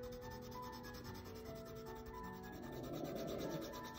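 Steady soft rubbing scratch of a pencil coloring on paper, continuous and close, with a slight swell in texture toward the end.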